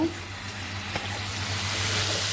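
Spice masala frying in hot oil, a low continuous sizzle close up with a steady hum beneath and one faint tap partway through.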